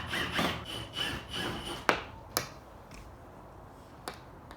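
Phillips screws being backed out of a factory tweeter mount in a Mazda 6 front door with an angle bit, giving close rubbing, scraping turns followed by a few sharp clicks and taps.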